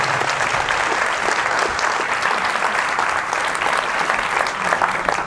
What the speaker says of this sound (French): Alors on les applaudit pour les mettre à l'aise au milieu de nous.